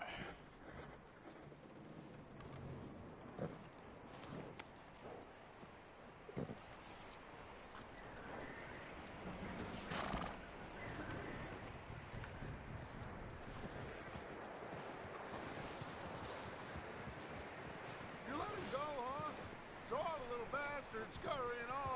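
Horse hooves clip-clopping steadily in Red Dead Redemption 2, a continuous rhythmic trot over ambient game sound, with a voice talking over it.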